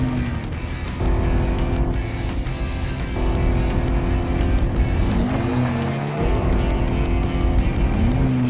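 A Cadillac ATS engine pulls hard uphill through the Beau Rivage section of the Monaco circuit, revving loudly and steadily with rising pitch between gear changes and faint tire noise.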